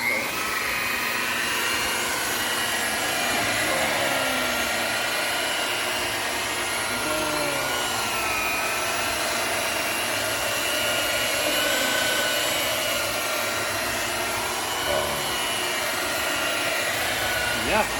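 A power sander dry-sanding oxidized boat gelcoat with 600 grit runs continuously, a loud, steady whirring drone with a faint high whine, close by and unbroken throughout.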